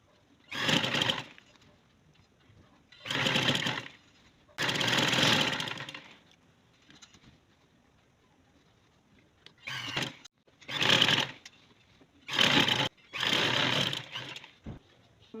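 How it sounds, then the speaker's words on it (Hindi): Sewing machine stitching elastic onto a trouser waistband, running in several short bursts of whirring needle action separated by quiet pauses, close and fairly soft. "अब हमने इलास्टिक के ऊपर सिलाई लगानी है"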